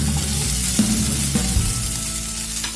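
Cooked ivy gourd (tindora) curry stirred in a pan, a steady sizzle running throughout with a few scrapes and clinks of the spoon; no voices.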